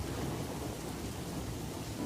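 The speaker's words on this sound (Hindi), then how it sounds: "झमाझम बारिश हो रही है, आसमान में काले बादल छाए हुए हैं और बिजली कड़क रही है" Heavy rain pours steadily through a cartoon storm scene, a dense continuous roar with low rumbling thunder underneath, loud and close throughout with no voices.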